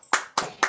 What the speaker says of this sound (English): And we should also clap for Dan.